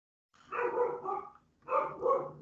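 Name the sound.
dog barking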